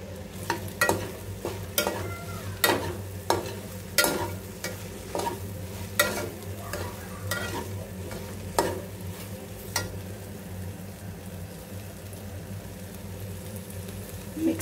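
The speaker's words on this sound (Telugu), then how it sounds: "ఇలా ఫ్రై చేసుకోవాలి మొత్తం।" Sliced okra frying in a pan, a steady low sizzle broken by sharp, irregular scrapes and knocks of a spoon stirring, close and moderately quiet, with no voices.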